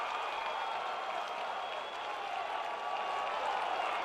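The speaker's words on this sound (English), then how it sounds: "Lawrence fans roaring to their feet" St. Laurence fans roar at the 2025 IHSA Class 3A baseball championship against Lisle Benet, a big crowd giving a sustained, even blend of cheering and clapping.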